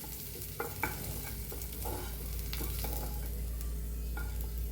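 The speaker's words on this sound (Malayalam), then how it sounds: "അപ്പോൾ ഇതേ നമ്മൾ ചെമ്മീനൊക്കെ മൊരിഞ്ഞ് വന്നിട്ടുണ്ട്" Prawns frying in a pan for a Kerala prawn chammanthi, stirred with a few sharp scraping clicks over a steady soft sizzle; close and fairly quiet, with no talk.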